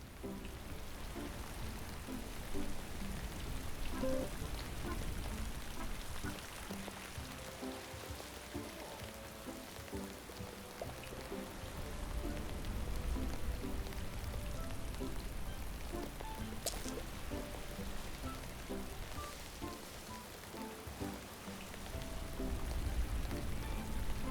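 Steady rain falling in the farming video game Paleo Pines, a continuous soft hiss and patter with faint game music tones mixed in, unbroken throughout.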